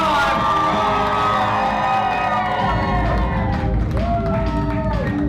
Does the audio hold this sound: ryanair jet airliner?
no